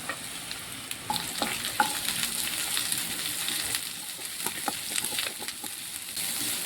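Onion, garlic, mustard seeds and green chillies frying in hot oil while being stirred, a continuous close sizzle with light scraping and occasional pops.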